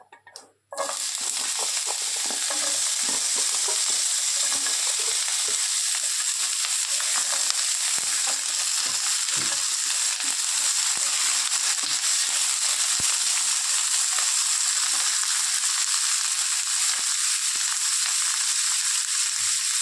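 Cut moringa drumstick pieces drop into a hot pan for a curry with a brief clatter, then a loud, steady sizzle of frying carries on without a break.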